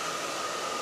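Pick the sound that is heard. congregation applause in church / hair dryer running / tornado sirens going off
hair dryer running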